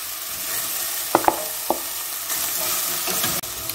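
Onions frying in a pan over a gas flame for spaghetti bolognese, a soft, steady sizzle with a few light utensil clicks.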